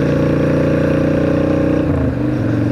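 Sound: Shadow 600 motorcycle engine while riding

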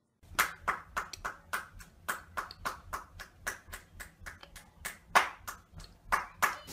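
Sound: round of applause

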